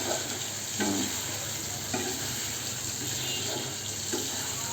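Food frying in a pan and being stirred, a steady sizzle running throughout with a few soft scraping strokes of the spoon spaced out across it, no voices.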